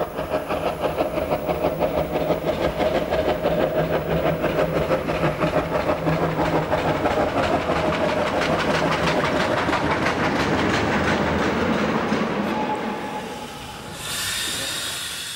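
An Austrian series 56 two-cylinder compound steam locomotive working nearby, with loud rhythmic exhaust beats and clanking over a steady hiss, the beats fading near the end.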